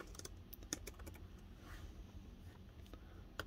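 A password is typed on a computer keyboard as quick, faint, irregular key clicks in a quiet room, with no talking.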